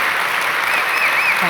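Audience applauding at an evening oration event, dense continuous clapping filling the room, loud and sustained throughout.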